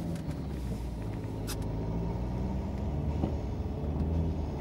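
A Saab 9-3 Sports Combi 1.9TID front-wheel-drive diesel on studless winter tyres shifting into third gear while climbing a hill, giving a steady, loud low engine rumble throughout.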